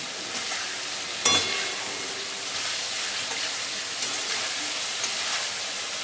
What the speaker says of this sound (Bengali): এবার আমি এর মধ্যে দিয়ে দেবো ভেজে নেওয়া আলুগুলো, দিয়ে আবার খুব ভালো করে মশলার সাথে মিশিয়ে নিচ্ছি